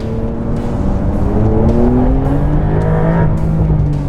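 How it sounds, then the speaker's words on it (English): A Porsche GTS sports car accelerates hard out of a corner on a race track, the engine note climbing steadily in pitch, loud and close, with a brief gear-change dip before rising again. "I just booted out of a corner there and it's still got traction"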